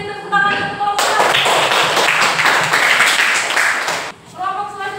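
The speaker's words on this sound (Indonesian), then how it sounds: "Silakan beri tepuk tangan untuk kelompok 1" A classroom of students claps for a group after its practical, a loud, dense burst of applause lasting about three seconds, with talk just before and after.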